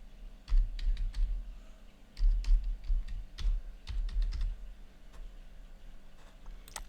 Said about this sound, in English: I'm going to enter a password.